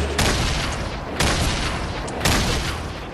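Gunfire in the video game Fortnite: three sharp, loud shots spaced about a second apart, each with a short decaying tail, with no talking over them.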